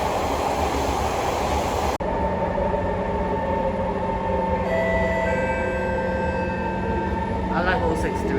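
Trains pass on a rail line in a loud, continuous rumble, with a sharp cut partway through, then steady rolling noise and tonal whines from the motor trains.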